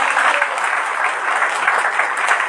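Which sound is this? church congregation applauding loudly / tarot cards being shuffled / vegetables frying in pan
church congregation applauding loudly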